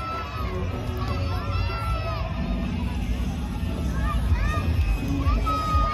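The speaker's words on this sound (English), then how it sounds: "Let's give a cheer to" A festival crowd of children and adults at the Masskara Festival in Bacolod City cheers and shouts for Jollibee, loud overlapping squeals and yells building over busy chatter and babble, with voices talking through it.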